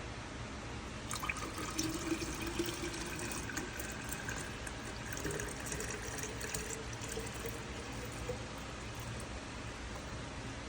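Homemade hibiscus drink is poured into a container in a steady, continuous liquid stream, with gentle splashing that runs evenly for about ten seconds.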